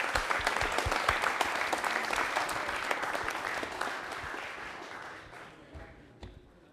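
A studio audience at a televised Republic Day quiz show breaks into loud, dense applause that slowly thins out and fades toward the end.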